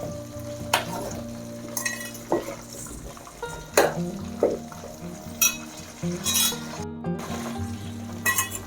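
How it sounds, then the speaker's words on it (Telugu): Amla pieces for Telugu-style amla chutney frying in a pan, a steady sizzle broken by intermittent stirring scrapes and light metallic clinks of the spoon against the pan. "ఫ్రై అవ్వాలి మధ్య మధ్యన ఇలా కలుపుతూ ఉండాలి"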